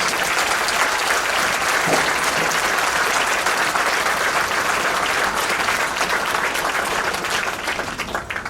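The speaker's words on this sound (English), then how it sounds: "let's give him and all our recruiters out there a round of applause" Sustained applause from a large crowd at a Marine Corps recruit graduation ceremony, steady and loud throughout, easing slightly near the end.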